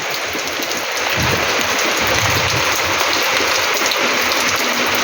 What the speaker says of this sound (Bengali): ভালোই বৃষ্টিটা নেমেছে দেখো